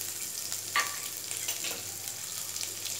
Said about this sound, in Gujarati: હવે અંદર 1 નાની ડુંગળી સમારી એડ કરી દઈશું.